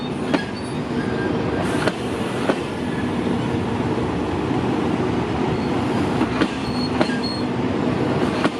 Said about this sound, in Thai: กรุงเทพเชียงใหม่ขบวนรถ CNR เงียบและนิ่มมากนะ